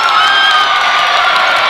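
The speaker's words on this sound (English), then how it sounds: "The crowd likes the charge call by the refs" Basketball crowd in a high school boys' gym cheers a charge call, a loud sustained roar of voices with whoops that holds steady from start to finish.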